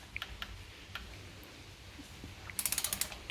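A torque wrench tightens a 25 mm wheel spacer on a 2019 Mustang GT. Faint scattered clicks are followed near the end by a quick, close run of sharp ratchet ticks.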